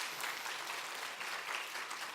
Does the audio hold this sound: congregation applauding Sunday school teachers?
yes